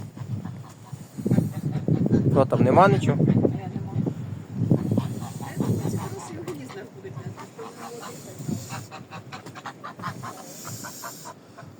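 Farmyard geese honk and cackle close by on a frosty, windy day while someone talks over them, with several loud calls early on and softer honking later.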